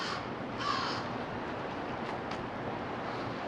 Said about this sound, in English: I do believe that that's a crow though